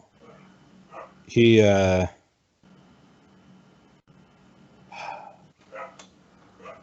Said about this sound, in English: With the dogs in the background?